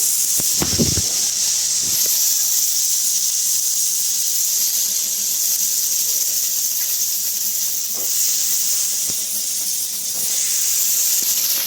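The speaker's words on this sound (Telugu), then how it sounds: "ఇక్కడ టమోటాస్ చివర్లో నేను ఫ్రై చేస్తున్నాను" Tomato pieces frying in oil in a pan, giving a loud, steady hiss and sizzle that carries through the whole stretch with a few faint clinks.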